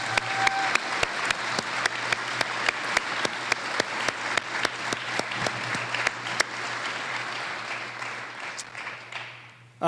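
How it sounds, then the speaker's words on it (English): Applause from an audience at a senior awards night, honoring parents and teachers: a steady roomful of clapping with sharper individual claps standing out, tapering off toward the end, with a low steady hum underneath. "give a round of applause to both your parents and your teachers"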